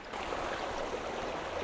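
Water flowing steadily through a deep mountain jungle, a soft continuous broadband rush that stays even and fairly faint, with no voices.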